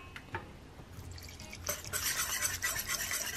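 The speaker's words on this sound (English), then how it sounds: "the chicken broth and get it mixed up really well" A spoon stirs ranch seasoning into chicken broth with soft liquid swishes and light clinks, growing brisker and louder partway through, heard close with no talk.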